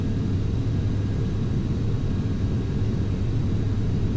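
Aircraft engines roar in a steady, loud, unbroken rumble during a takeoff roll in Microsoft Flight Simulator X, with no talking over the sound.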